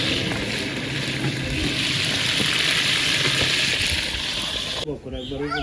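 Pabda fish fry in hot oil alongside chicken, a steady loud hiss and sizzle running continuously before cutting off abruptly near the end as a voice speaks.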